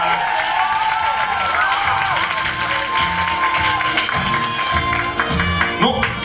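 Studio audience at a karaoke show applauding and cheering for the next performer, dense continuous clapping with shouts on top and a rhythmic thumping beat underneath.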